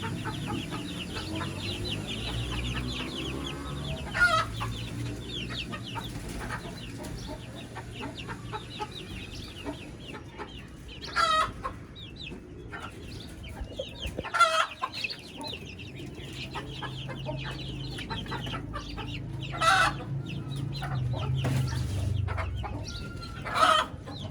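An injured mother hen and her free-roaming chicks cluck and peep, with soft repeated hen clucks and scattered sharp chick calls and occasional louder bursts, fairly close in a quiet yard.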